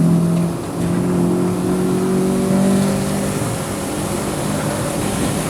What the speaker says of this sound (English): Gotta love that intake snarl as well